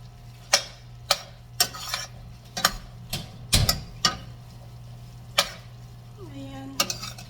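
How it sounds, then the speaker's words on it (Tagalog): A spoon stirs igado in a pot, giving sharp scraping knocks against the pot at an irregular, roughly half-second pace, close and clear over a low steady hum. "Paghaluin lang po natin."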